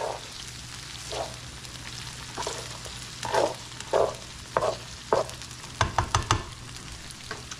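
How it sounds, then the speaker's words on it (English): Beef stroganoff simmering and frying in a pan, a steady bubbling sizzle punctuated by several sharp stirring scrapes and clacks, close by with no talk. "We're going to let that simmer for about 5 minutes until they get fork tender."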